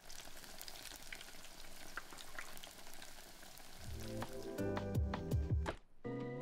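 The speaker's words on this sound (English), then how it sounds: "turn them over and fry for another 3 minutes." Ingredients for Japanese oden fry in a pan with a continuous close sizzle, followed toward the end by a brief stir or squish and some tonal sound.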